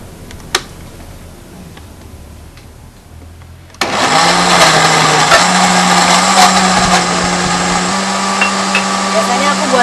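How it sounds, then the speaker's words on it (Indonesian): A kitchen blender whirs loudly and steadily as it blends a vegetable drink with a little water. It starts abruptly after a quiet stretch and keeps a strong, even motor drone. "Blender deh."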